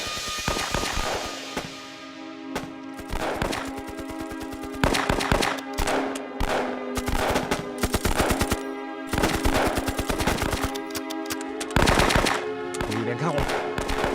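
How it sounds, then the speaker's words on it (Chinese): Rapid bursts of automatic machine-gun fire in a war film ambush rattle in repeated volleys, loud and sharp, with brief gaps between bursts over a low background drone. "机枪组拿机枪压制，投弹组投弹"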